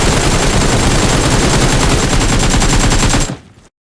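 Rapid automatic fire from an ACE32 rifle in PUBG Mobile, a loud unbroken stream of gunshots in steady fast rhythm for about three seconds before cutting off abruptly.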